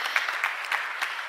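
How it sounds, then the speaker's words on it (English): A short burst of applause from a small audience at a global goals forum, even and moderately loud with no talk over it. "we can give her an applause"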